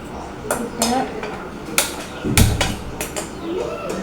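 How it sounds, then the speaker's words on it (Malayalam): A clay chatti is set down on a stove with a solid clunk and a low thump. Lighter clinks and taps of kitchen utensils come before and after it. "അടുപ്പത്തെ ചട്ടി വെച്ച് കൊടുക്കാം"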